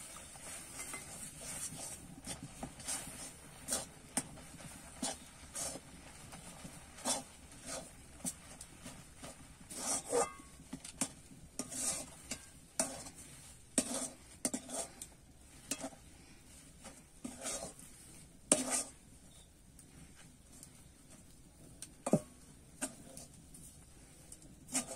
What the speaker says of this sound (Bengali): এবারে কিন্তু আমি চালের গুঁড়োটা দেবো আর নাড়তে থাকবো